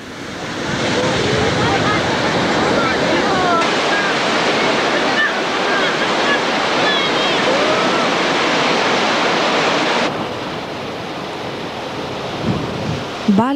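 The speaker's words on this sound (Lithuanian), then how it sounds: "Baltijos jūra." Baltic Sea waves break on a sandy shore, a loud, sustained roar of surf with wind buffeting the microphone, easing somewhat near the end as a few brief sounds poke through.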